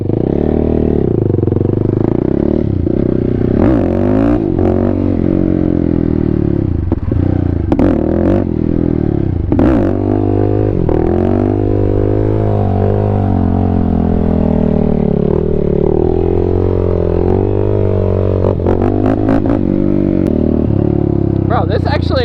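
A Honda 449cc four-stroke dry-sump dirt bike engine runs loudly throughout, with revving rises and clattering mechanical noise, and people talk over it.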